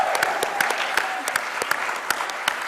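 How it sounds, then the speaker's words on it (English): An audience at an award show applauds steadily throughout, with a dense wash of hand claps and a few sharper individual claps standing out at a fairly even pace. "I think he deserves a round of applause."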